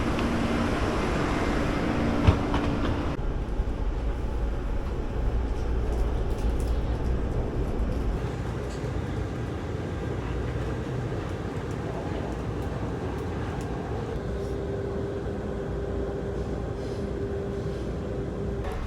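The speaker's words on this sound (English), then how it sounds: "Very comfortable train journey." Airport rail link train riding toward Taipei Main Station in Taiwan, a steady low rumble and rolling hum from inside the carriage with a brief clunk early on and faint tonal whines, continuous and without talk.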